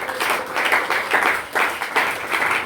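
A church congregation applauds and cheers during a worship service of teaching and thanksgiving, steady close clapping in surging waves with no talk over it.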